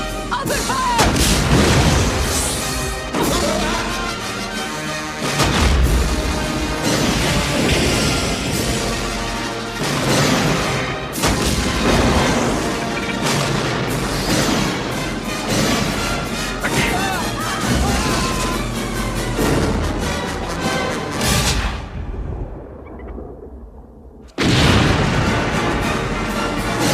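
Booming cannon fire and crashing explosions from a pirate battle in the 1990s swashbuckler film Cutthroat Island, loud and dense over a dramatic orchestral score, with heavy hits repeating through the scene, a brief drop near the end, then a sudden loud burst.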